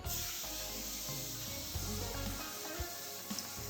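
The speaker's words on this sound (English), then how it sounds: "I need to spray that for me. Spray it." A steady broadband hiss of cooking spray onto a tray runs through the clip, with a few soft clunks near the end and no talking.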